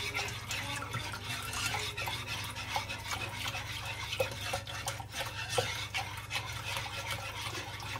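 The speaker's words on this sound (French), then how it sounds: "Il faut bien mélanger avec un fouet de préférence." Milk being whisked into a gratin mixture, a steady close scraping and sloshing of a whisk against the bowl with small liquid splashes, continuous over a low background hum.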